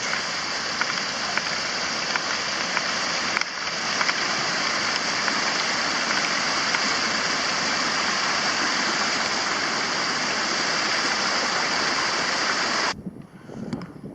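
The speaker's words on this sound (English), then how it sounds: "This is one of, I think, 3 creeks that we will cross." A creek crossing a hiking trail on Cape Breton, Nova Scotia, rushes in a dense, steady wash of flowing water, loud and close, before cutting off abruptly near the end.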